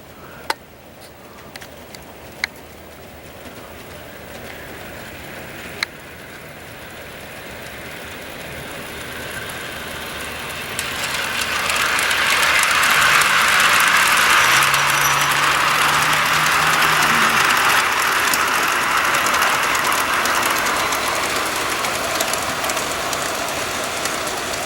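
A G scale Bachmann Consolidation model steam locomotive with a Barry's Big Trains conversion chugs steadily outdoors, pulling a freight and passenger mix, its mechanical rumble and hiss growing louder as it approaches, with a few sharp clicks early on.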